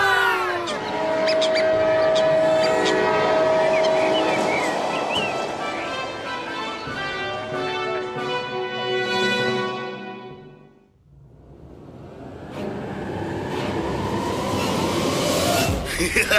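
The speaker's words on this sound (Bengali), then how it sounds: "আমি নিজেই এই ট্রেনে প্রথমবার চড়ছি।" Train running in an animated series, a loud rumbling clatter with rising tones that fades away into a brief hush and then swells back in, with no talk over it.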